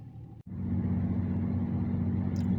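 Steady low engine rumble and road noise from inside a car driving on an evening road in Spain, continuous and fairly close after a brief break at the start, with no talk.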